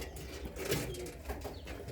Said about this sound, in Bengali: লাল বোম্বাই কবুতর, বোম্বাইয়ের মতো ঝুটি